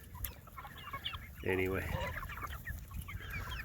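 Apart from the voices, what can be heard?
chickens clucking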